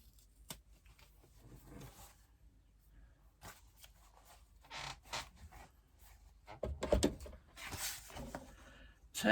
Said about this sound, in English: Trim your 2 bottom corners.